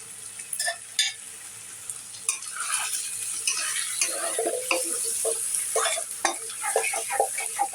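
A spoon stirs prawn curry with kochur loti in a frying pan, scraping and clinking against the metal over a continuous sizzle, with irregular close strokes.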